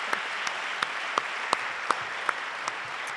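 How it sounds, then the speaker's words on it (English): An awards-night audience at Nashoba Tech gives the organizer steady, even applause at moderate volume, with sharper individual claps standing out at regular intervals. "I'd like to give her a huge round of applause for all her work"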